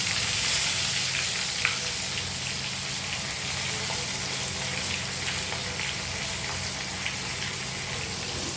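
Aubergine pieces fry in hot oil with a steady, dense sizzle that fills the whole stretch, a constant crackling hiss close up with a few faint clinks and no talk.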